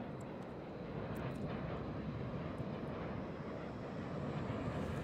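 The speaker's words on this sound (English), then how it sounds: "That's a pretty cool flyby. F-15s right there." An F-15 fighter jet roars past in a flyby, its loud broad engine noise holding steady and full throughout with no voices.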